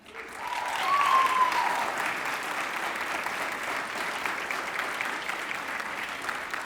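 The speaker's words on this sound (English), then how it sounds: "we can clap after each just because I know that feels good" An audience at the Jewish Federation of Greater Portland annual meeting applauds, a dense, even wash of clapping that swells in the first second and holds steady, with faint voices under it.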